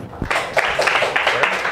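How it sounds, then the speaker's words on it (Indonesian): Classmates in a mathematics classroom applaud for a student named Rio, a brief burst of clapping from a small group that starts suddenly and continues loud and close. "tepuk tangan dulu buat Rio"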